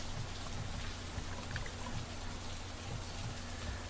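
Steady rain falls in the game Steins;Gate 0, a cold midwinter downpour with large drops, forming a continuous even wash of patter and splashes with no voices.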